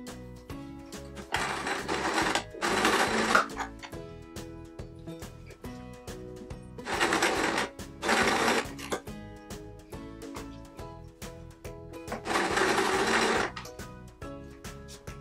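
A sewing machine stitches patchwork quilt quarters together for a windmill block, running in three bursts of rapid whirring separated by pauses, close and clear with no talking.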